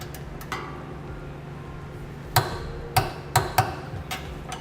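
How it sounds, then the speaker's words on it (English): Torque wrench tightening the center section bolts of a B&W fifth wheel trailer hitch in a 2012 Chevrolet Silverado truck bed, a few sharp metallic clicks in a quick cluster over a low steady hum, close and fairly quiet. "we torque all of the center section bolts down to the specification listed in the instructions"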